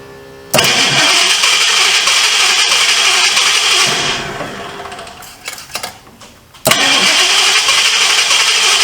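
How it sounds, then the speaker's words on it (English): A 1978 Ford Mustang II engine cranks and catches, roaring loudly and steadily close by, dipping briefly into a rough, sputtering lull before surging back to a strong, sustained run. "I'm gonna turn the key on and hopefully that it cranks and it don't backfire and blow the muffler clean off of it."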